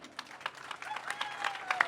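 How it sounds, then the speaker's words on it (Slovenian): Audience applause at a pro-life march event in Ljubljana, a dense patter of many hands clapping steadily for two seconds, moderately loud with a faint crowd murmur beneath. "Zaploskajmo jim."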